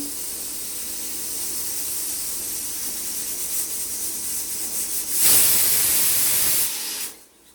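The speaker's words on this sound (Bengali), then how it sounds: "আমরা প্রেসার কুকারটা সিটি মেরে নেব।" Pressure cooker on the stove during vegetarian moong dal cooking, a soft steady hiss building up before a loud, sharp steam whistle blast of about a second and a half that then cuts off.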